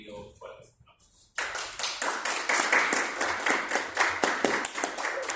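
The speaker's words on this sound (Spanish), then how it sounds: "doy paso a nuestro invitado para que pido fuertes aplausos" Applause breaks out for a guest speaker at a conference on Marx's economic and philosophical manuscripts, a dense burst of clapping after a short spoken introduction, continuing steadily to the end.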